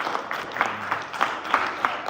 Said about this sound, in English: I'm going to encourage us again to put our hands together for Miss